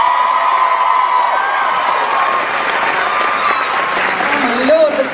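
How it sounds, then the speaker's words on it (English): A fan convention panel audience applauds and cheers for Donna Noble of Doctor Who, a loud, sustained roar of clapping and whoops from a large crowd, with voices and shouts rising near the end. "I think we could give a round of applause for that"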